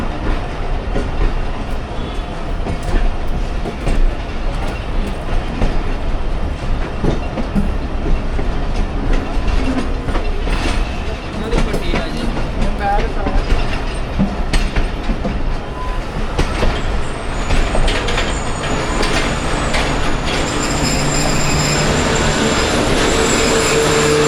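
The Rehman Baba Express pulls into Wazirabad Junction on a curved station track, a loud continuous rumble of rolling railcars with clattering wheels and faint squeals. The clatter eases as the train slows.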